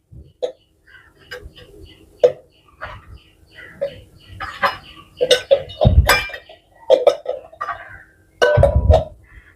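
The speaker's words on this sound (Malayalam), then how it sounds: "പ്രഷർ കുക്കറിലേക്ക് മുട്ട ഇടാം." Eggs knock into a metal pressure cooker with a series of close, irregular hard clinks and thumps, some louder than others, in an otherwise quiet kitchen.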